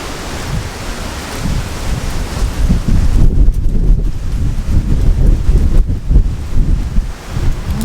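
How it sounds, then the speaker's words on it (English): Gusty wind blows outdoors over a garden where compost is spread and beds are tilled, a loud, rumbling buffet against the microphone that surges and eases without pause. "Some gusty wind."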